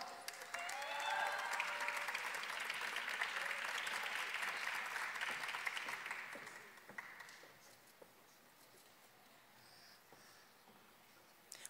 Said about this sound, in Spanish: Un fuerte aplauso para María Guadalupe.